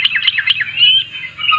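Sooty-headed bulbul held in the hand, singing a short burst of bright, loud, close chirping notes followed by a sustained warbling phrase, alone without talk.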